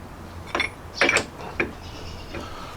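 Hydraulic press being pumped by hand to push rusted ball joints out of a Jeep Cherokee, giving a few separate mechanical ratcheting clicks and clanks with pauses between them, close up and moderately loud.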